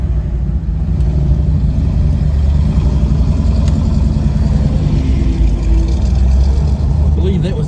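A Dodge Challenger T/A 340 pulls away from a third gear start, its engine a low steady rumble that stays strong and continuous throughout, heard from close by.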